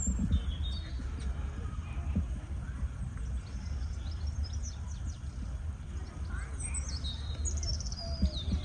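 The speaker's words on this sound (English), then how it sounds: "the birds are singing" Birds sing in a spring garden at Greenbank Garden in Scotland, with faint, scattered chirps and tweets over a steady low outdoor rumble.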